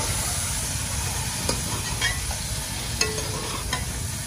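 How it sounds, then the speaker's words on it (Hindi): Beef liver (kaleji) sizzles and fries with browned onions in ghee, a steady loud hiss with a few soft spoon scrapes and clinks while being stirred, no talking. "इसको अच्छे तरीके से फ्राई कर लेंगे घी में"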